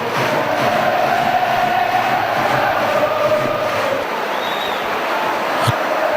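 Crowd noise fills a rugby league stadium during a Leeds Rhinos match against Bradford, a steady broad roar of cheering spectators that holds loud and continuous before easing slightly, with a brief sharp burst near the end.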